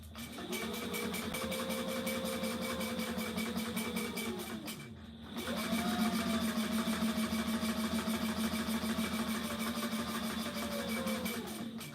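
A sewing machine stitches a camo belt in two long runs, its motor whirring with a rapid steady needle clatter, briefly pausing midway before restarting, close and even.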